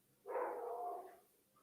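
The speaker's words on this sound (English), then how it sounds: "Can you hear my dogs barking?" A single dog bark or short yelp, heard indoors at a moderate distance, drawn out for about a second before it fades; a faint second yip follows near the end.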